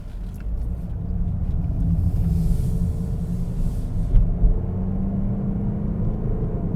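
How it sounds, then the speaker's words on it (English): Cabin of a 2020 Toyota Corolla Hatchback on the move, its CVT transmission giving a steady deep drone and rumble with a faint whine, continuous and close, no talk over it. "That CVT noise is not a really good sounding transmission"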